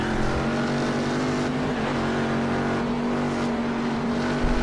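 A loud Corvette V8 engine in a racing game rumbles and growls steadily during a race at Road Atlanta, its pitch dipping briefly midway before settling back into a hard, sustained roar.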